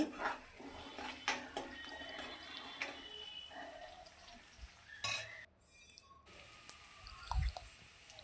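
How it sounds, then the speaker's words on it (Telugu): Onions and curry leaves frying in a pan, stirred with a ladle, giving a steady sizzle with scattered scraping clinks and a brief louder scrape, no talking. "నాలుగు రెబ్బల కరివేపాకు వేసుకొని వేపుకోవాలి మధ్య మధ్యలో ఉల్లిపాయ ముక్కలు మాడకుండా గరిటెతో తిప్పాలి"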